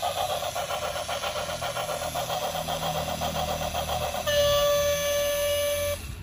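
Battery-powered toy electric train running, a steady buzzing motor hum with a faint rhythmic pulse, then a shrill electronic horn-like tone that holds for under two seconds near the end.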